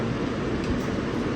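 An R160 E local subway train runs along the Manhattan-bound line from Jamaica Center, producing a steady, loud rumble of wheels and motors close inside the car, with a slight rise at the end and no voices.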